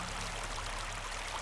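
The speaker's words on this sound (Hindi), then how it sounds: "अरुण उस छोटी सी धारा में बहा चला जा रहा था" A small stream of water flowing steadily, a continuous close broadband rush with no change in level and no voices.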